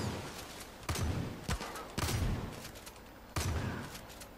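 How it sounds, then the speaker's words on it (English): Shotgun blasts in Far Cry 5, four or five sharp, loud booming shots spaced irregularly about half a second to a second and a half apart, each with a short ringing tail. "Come over here for a shotgun kill."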